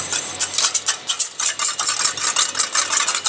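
A small whisk beats rapidly against a bowl, emulsifying a vinaigrette of salt and hazelnut oil; steady, close scraping strokes in quick rhythm with no talking.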